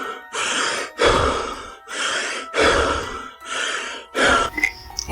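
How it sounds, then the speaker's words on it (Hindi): Heavy panting breaths, six long ragged exhalations and gasps in an uneven rhythm, close and loud with short pauses between them. "भोलाराम की हांफते हुए की सांसों की आवाज गूंज रही थी।"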